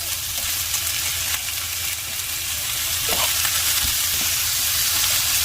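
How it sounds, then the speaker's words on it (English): Prawns sizzling with garlic and onion in a hot pan, a steady close frying hiss with occasional scraping stir sounds and no talking. "So we're going to saute our prawn together with garlic and onion."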